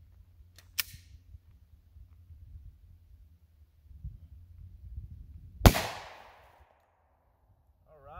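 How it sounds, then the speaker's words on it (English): A Glock 20 pistol fires a 155 grain XTP 10mm handload with Blue Dot powder. One sharp, loud report rings out with a decaying echo, preceded by a faint click and quiet handling noise. "Glock 20, 155 grain XTP hand loads,"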